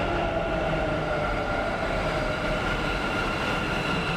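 A Bengaluru Namma Metro train makes a steady, loud rumble with a constant mechanical whine running through it, heard close by and without pause or speech.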